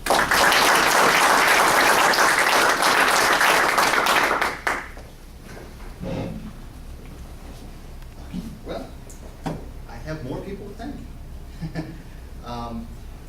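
A university technology symposium dinner audience applauds the organizers, loud sustained clapping for about four seconds that stops abruptly, followed by quieter room noise and someone speaking.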